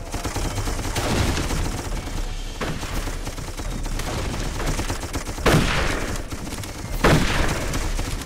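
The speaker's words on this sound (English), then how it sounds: "The Russian rifles, I think, fire a little quicker, but are a little weaker." Russian rifles fire in a video game battle in Darkest of Days, a dense fusillade of overlapping gunshots with louder close cracks standing out against continuous distant shooting.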